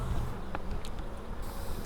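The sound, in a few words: honey bees buzzing, drone and worker bees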